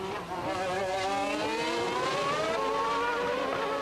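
A 1992 Formula One car screams through the streets of Monaco, its engine note climbing steadily in pitch as it accelerates, a loud, sustained high-revving whine with no voices.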